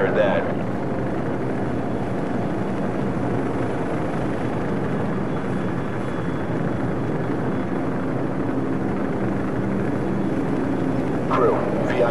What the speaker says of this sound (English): We're moving towards the helicopters now.